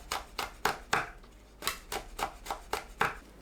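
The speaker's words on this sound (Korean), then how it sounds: "청양고추, 홍고추를 둥글게 썰어줍니다." A knife slices Cheongyang and red chili peppers into rounds on a cutting board, about ten crisp, evenly spaced chops that ring out close and clear with no talking.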